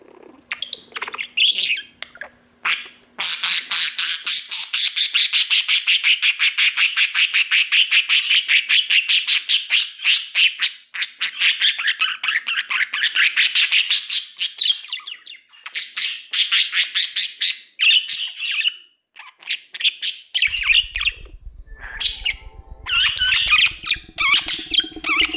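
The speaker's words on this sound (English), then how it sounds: "What you need is a Budgie." A pet budgie squawks and chirps in rapid bursts, loud and close, with short pauses between runs of sharp calls and a low rumble entering near the end.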